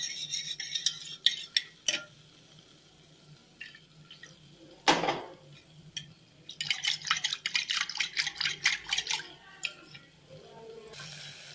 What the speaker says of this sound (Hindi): ये दही हमने घर पे ही बनाया था, इसमें थोड़ा सा पानी डाल के अब इसमें बनाते हैं बूंदी का रायता।